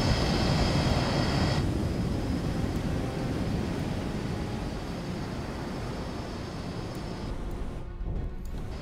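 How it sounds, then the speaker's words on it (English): Jet engine of a Harpoon anti-ship missile cruising toward its target in the submarine game Cold Waters, a steady loud roar that holds throughout and eases slightly near the end. "Booster's gone, it's now got its jet engine started as it's cruising towards target."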